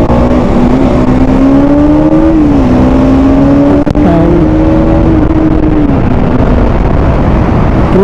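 A Yamaha MT-15 motorcycle runs at full power on a highway, its engine droning loud and close with a steady, slightly wavering pitch that dips and climbs through gear changes, and a brief sharp crack midway.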